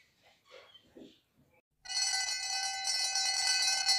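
A school bell rings loud and continuous, a sustained metallic clang that begins suddenly after a few soft, quiet sounds.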